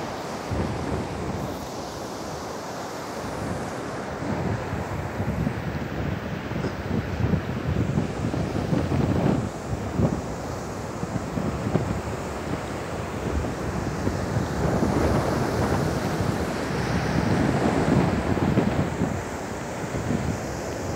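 Ocean surf rolls in on the sandy shore at Songjeong, a continuous wash of breaking waves mixed with gusting wind across the microphone, swelling in loudness from time to time.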